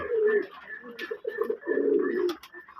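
Pet pigeons cooing in a loft, several close, loud throaty coos in a rolling, repeated rhythm with brief pauses between phrases.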